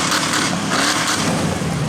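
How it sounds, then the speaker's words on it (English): A 2004 Chevy Silverado truck pulls into the pit at a demolition derby truck heat, its engine roaring loudly and continuously at close range with a rough, steady growl and a slight rise in revs. "Josh is driving into Little Burnett in a 2004 Chevy Silverado."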